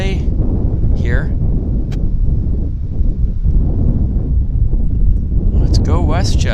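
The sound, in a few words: strong wind at Vancouver airport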